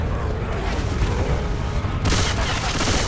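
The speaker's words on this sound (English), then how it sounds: "They're already shooting each other." Rapid gunfire during a Left 4 Dead 2 survivor match, dense bursts of shots that surge louder and brighter in the final second, mixed with busy game noise and voices.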